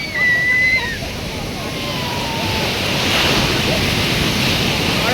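Strong sea surf crashes and washes in a broad, continuous roar, loud and close, with wind buffeting the microphone and a voice briefly speaking at the start.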